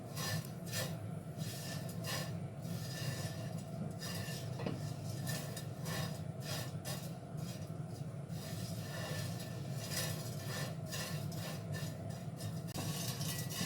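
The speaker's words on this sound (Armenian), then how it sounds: "անընդհատ խառնում եմ, որ հավասարաչափ կարմրի" A utensil scrapes and clinks steadily against a pot as lapsha noodles are stirred and browned, a continuous busy rattle with no voices.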